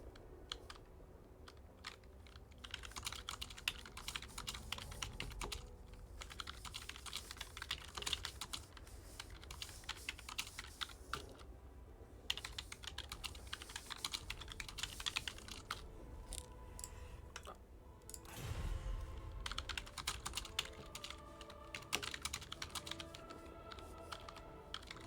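Fast, continuous typing on a computer keyboard, dense clattering keystrokes running nearly the whole time at moderate level, with no talk over it.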